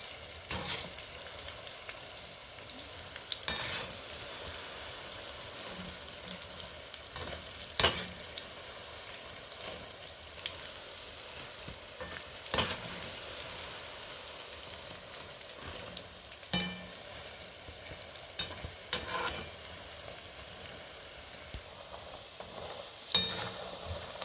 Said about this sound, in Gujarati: આપણે સિંગ ભજીયા તળાઈને આપણે ધીમા ગેસે જો આવી રીતના આપણે સિંગ ભજીયા તળાવવા મળ્યા છે